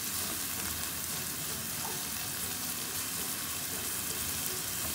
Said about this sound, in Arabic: عندي الفلافل، فلفله حمراء، فلفله خضراء. غنشحر مزيان هاد الفلافل